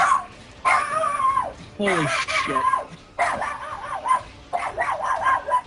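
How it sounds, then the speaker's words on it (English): A terrified dog in the video game Petals and Thorns barks, yelps and whimpers in frantic repeated bursts, loud and close, with a man's brief exclamation in between. "That dog is flipping its shit. Like, wow. Sounds absolutely terrified."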